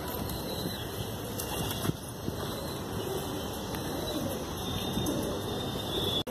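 Shahjahanpuri pigeons coo softly amid a steady background hum, low murmuring calls running through the clip at a moderate distance, with a couple of faint knocks.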